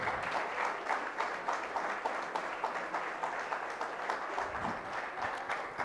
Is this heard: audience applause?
yes